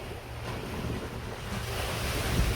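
Ocean waves crash on the shore in a continuous loud wash of surf, mixed with wind noise on the microphone, close and steady throughout.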